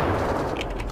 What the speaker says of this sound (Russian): Вот это так взрывчик.